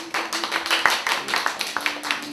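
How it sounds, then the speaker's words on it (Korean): An audience at a Korean labor solidarity rally claps, the sharp individual claps clearly audible and uneven, close and fairly loud, building briefly then thinning out. "박수!"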